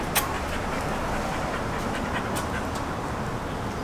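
A dog pants heavily and steadily at close range, a continuous breathy rasp with no speech over it.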